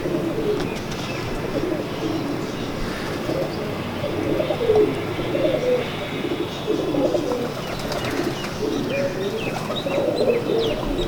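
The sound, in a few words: JF-17 pigeons cooing on a rooftop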